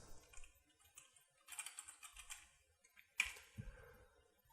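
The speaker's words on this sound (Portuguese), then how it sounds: "Vamos começar digitando um nome qualquer aqui nessa célula." Quiet, close typing on a computer keyboard while entering a name into an Excel spreadsheet cell: irregular bursts of light key clicks with a sharper tap near the end, and no talking.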